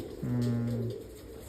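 A single low, rolling coo from a Baba Janta breed pigeon, close and fairly loud, lasting under a second against a quiet background.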